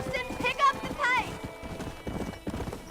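In Red Dead Redemption, a horse clip-clops at a quick, steady pace while whinnying twice near the start, with a voice urging it on over the rhythmic hoofbeats.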